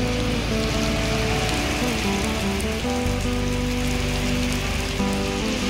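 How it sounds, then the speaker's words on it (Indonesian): Steady, dense rain patters loudly and close on a surface around a bus terminal in the evening, with a constant hiss and faint mechanical ticking, and no voices. "Hujan ya."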